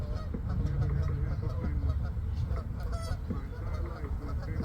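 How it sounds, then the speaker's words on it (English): Geese honk repeatedly and loudly close by at a small get-together in Port Colborne, their calls overlapping as the birds come running, over steady outdoor background noise. "look, the geese know. They're coming running."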